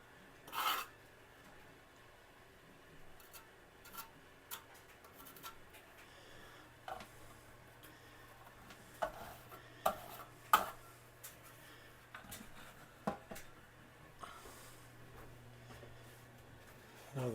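A standard V-notch trowel spreads adhesive on shower tile, giving quiet, scattered scraping and rasping strokes, close up and faint, in irregular short bursts over a low steady hum.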